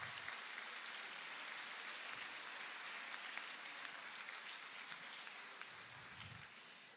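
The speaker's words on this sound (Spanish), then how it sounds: "Así que aplauso para todas ellas." An audience at a public ceremony in Montevideo applauds, dense sustained clapping from a crowd filling the room, steady and fairly loud before tapering slightly at the end.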